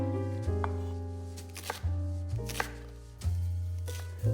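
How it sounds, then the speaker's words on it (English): A knife chops through large green onions on a cutting board, several firm, evenly spaced thuds with a quiet gap between each, close and clear. "we're going to chop them down and use them"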